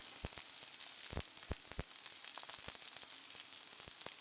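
Onions and curry leaves sautéing in a pan for Tamil kaara koottu, a steady quiet sizzle broken by sharp crackles and pops spread through the clip, with no voice.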